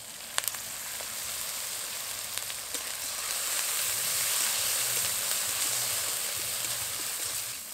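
Onion paste with ginger paste, cumin and dried chili paste sizzles and fries steadily in a pan, a close, continuous crackling hiss with a few light clicks of stirring.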